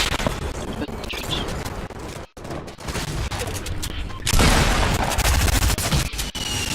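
Rapid P90 submachine-gun fire from a Fortnite match crackles in dense, continuous bursts, growing louder and harsher after a brief silent gap, with overlapping shots throughout.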